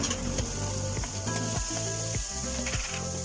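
Garlic, onion and green chili sauté in a pan for goat papaitan, making a loud, steady sizzle broken by repeated scraping and clicking from stirring.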